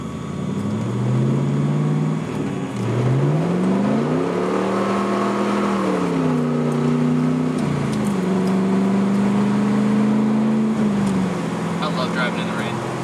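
A 1999 Pontiac Trans Am with a 6-speed manual revs loudly between shifts, its engine note climbing and falling in repeated rev-matched downshifts, recorded inside the car with someone talking over it.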